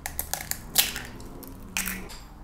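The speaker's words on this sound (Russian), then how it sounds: "Вбиваю яйца" Eggs are cracked into a bowl with a few sharp taps and crunches of shell, quiet and close, against a soft background.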